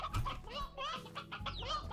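Stony hen chickens from the video game Slime Rancher cluck in a busy burst of several short calls, fairly close and moderately loud against other game sounds.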